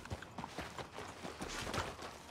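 Hoofbeats of a horse trotting in Red Dead Redemption 2 make a quiet, even clip-clop rhythm over a soft background of ambient game noise, with no talking.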